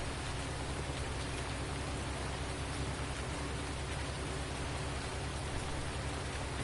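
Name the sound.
rain while cultivating in a farming video game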